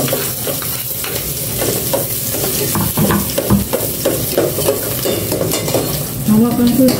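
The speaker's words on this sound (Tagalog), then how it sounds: "And i-desa ko na po itong bawang." Garlic sautéing in hot oil in a pan, a loud, continuous close sizzle with stirring scrapes and utensil clinks throughout, no talking.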